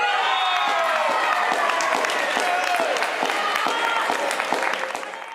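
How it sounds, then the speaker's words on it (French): Spectators in the stands at a women's match chant and clap, a sustained roar of applause and singing voices that fades slightly at the end. "portées par les chants et les applaudissements des tribunes"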